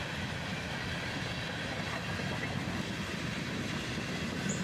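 Freight train boxcars, including a bright yellow Union Pacific boxcar, roll steadily past at close range with a continuous broadband rumble and faint wheel clatter, no voices.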